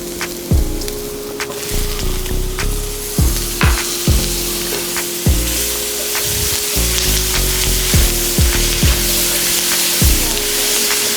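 Butter sizzling loudly in a hot pan with cooked-down onions, a steady crackling fry broken by repeated scraping strokes of a stirring utensil.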